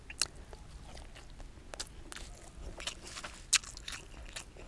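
Close, quiet chewing of fresh water lettuce flowers, soft crunching bites with occasional sharper crisp snaps over a faint background.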